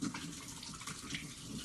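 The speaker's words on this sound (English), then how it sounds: "Let me rinse my hand." A hand rinsed under a running kitchen tap during bread making, a short steady stream of water splashing quietly and close by.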